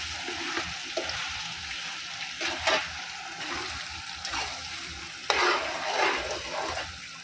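Red chilli pickle bubbles and cooks in oil as it is stirred, with a thick hissing sizzle and several louder scraping sweeps, close up and without talk.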